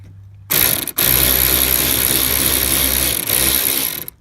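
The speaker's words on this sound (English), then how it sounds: "get your socket on your wrench" Socket wrench ratcheting on a bolt of a VW Mk5 rear light, a loud close rapid clicking burst that runs steadily for a few seconds with one brief pause.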